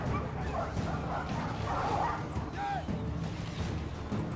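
In a Total War Arena battle, packs of war dogs bark, yip and whimper, with fairly close repeated barks over a dense bed of combat noise and occasional talk.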